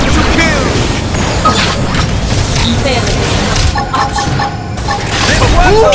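Skell mech gunfire in Xenoblade Chronicles X, dense booming volleys and crashes running continuously throughout, loud and busy within a thick game mix, with a voice calling out over it.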